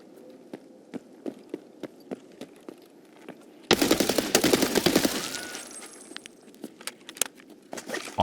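Hip-fired gunfire in a video game: a rapid automatic burst lasting about a second and a half rings out loud and close, surrounded by sparse clicking footsteps and small handling taps before and after.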